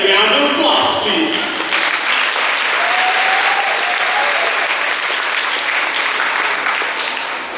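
A graduation ceremony audience at PCHS gives a round of loud, dense applause that carries steadily for several seconds and eases slightly toward the end.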